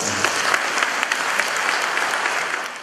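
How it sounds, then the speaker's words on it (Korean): A group claps during a motivational talk about success and goals, a short, steady burst of close applause with no voices over it. "이건 박수 쳐줘야 돼."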